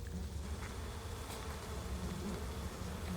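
Bees drone in a continuous, close buzz that wavers slightly in pitch, alone with no voices over it.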